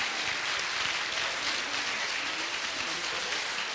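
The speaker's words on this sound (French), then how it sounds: "on peut les applaudir encore, bravo à tous" Dense, steady applause from a crowd at a master's degree graduation ceremony, sustained and even with no talking.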